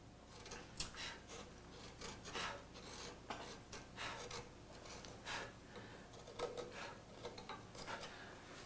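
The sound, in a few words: planing down a carved cottonwood bark piece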